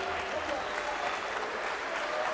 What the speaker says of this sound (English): Crowd appreciating that little exchange.